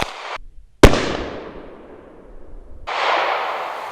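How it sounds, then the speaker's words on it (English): One 9mm ball round is fired at homemade body armor, a single sharp, loud crack that decays into a fading echo, followed by steady broadband noise. "There's one round. One shot."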